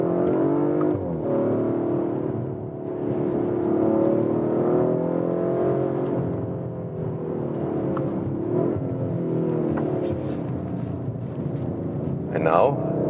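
An Audi RS 5 sports sedan's engine drones steadily from inside the cabin while driving, rising and falling slightly in pitch, with someone talking over it throughout.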